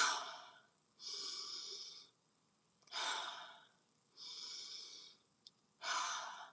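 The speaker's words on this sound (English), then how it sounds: "breathe in and out 3 deep breaths" Three slow, deep breaths in and out during a relaxation exercise, each inhale and exhale a soft, airy rush lasting about a second, close and quiet with near silence between them.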